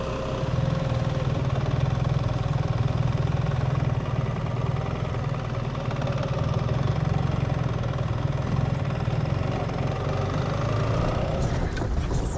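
Motorbike engine droning steadily while riding a road in Laos, a close, loud, constant mid-pitched hum with wind rush, and a rider talking over it at times.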